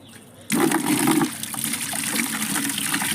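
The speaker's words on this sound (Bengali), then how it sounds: "এবার ওই হাফ লিটার জলকে আমি এক বালতি জল ভর্তি করব" Water from a tap gushing into a bucket, starting abruptly with a loud, full rush that settles into a steady pouring splash.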